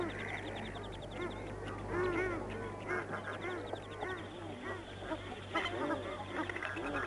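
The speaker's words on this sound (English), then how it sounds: "The two large birds are black duck. The rest are teal and hardheads." Black ducks, teal and hardheads on water give repeated raspy quacks and honks, some nearer and some farther off, over a constant low hum, with a voice speaking at times.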